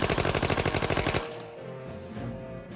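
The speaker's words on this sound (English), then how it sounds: "If there was one gun that let everyone know a criminal had arrived, it was the Tommy gun." A Tommy gun fires a rapid automatic burst of about a dozen loud, evenly spaced shots, then cuts off into a fading echo and low rumble.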